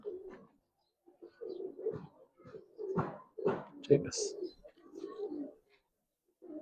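High-flyer pigeons cooing in a loft, soft low throaty coos repeating in short bursts at close range, with people talking quietly in between.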